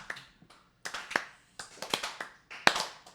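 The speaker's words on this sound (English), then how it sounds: "I want an 80s slow clap." Audience at a live show doing a slow clap, with a few separated claps that grow into sparse clusters of hands, uneven and gradually joined by more people.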